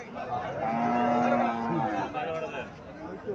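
A Haryana cow and her red calf moo in long, drawn-out calls close by, one low moan following another, while people chatter in the background.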